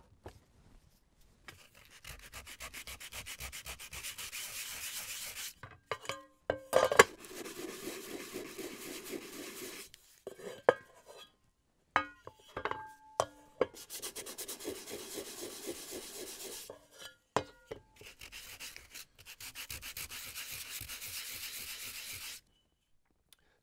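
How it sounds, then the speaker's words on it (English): Sanding burrs off freshly drilled holes in metal pie tins for a homemade Dutch oven, scratchy rubbing strokes in several bursts of a few seconds each, separated by pauses and light handling clinks. "we'll sand down any burrs that remain"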